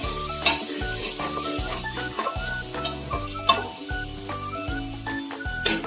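Vertically sliced tomato frying in a pan with already-sautéed ginger and garlic for homemade chicken biryani, loud continuous sizzling broken by repeated scraping strokes of a spatula against the pan.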